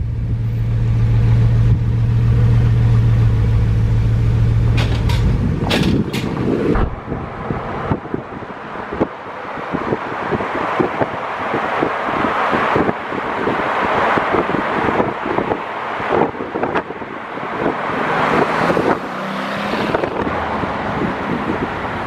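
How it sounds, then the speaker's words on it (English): A Bugatti Veyron out on the road in LA gives a loud, steady drone at first, then a blustery mix of rushing wind and deep engine and road rumble with scattered bumps and surges. "right now we're taking the Bugatti out"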